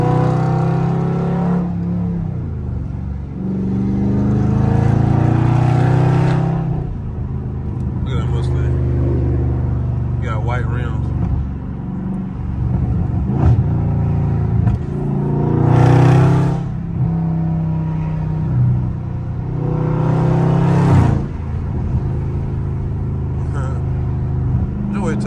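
A loud Dodge Scat Pack muscle car in traffic, its deep engine rumble rising in repeated revving pulls and dropping between shifts, heard from inside the car with someone talking over it.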